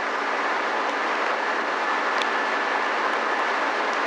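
Train departing Hyogo station on the Wadamisaki line, heard from inside as a steady broadband rumble and rolling roar with faint high squeaks, continuous and fairly loud, with no voices.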